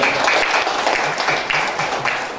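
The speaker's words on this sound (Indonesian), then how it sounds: "Tepuk tangan." Steady applause from a crowd at a community organization meeting in Balikpapan fills the whole stretch, a dense wash of many hands clapping at a constant level.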